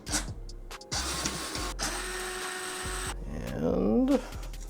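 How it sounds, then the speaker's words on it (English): An electric screwdriver removing screws from a PC case: several short bursts of whirring motor at close range, separated by clicks and pauses, ending with a rising whine as a stubborn screw comes loose. "I gotta put it on a higher torque setting on my screwdriver."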